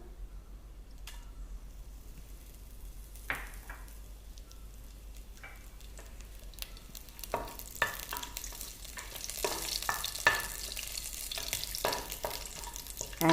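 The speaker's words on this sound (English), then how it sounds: "We'll add the curry leaves now." Curry leaves dropped into hot spiced oil for a mutton curry crackle and sizzle, starting sparse with scattered pops and building to a dense, steady spatter close by, with no voices.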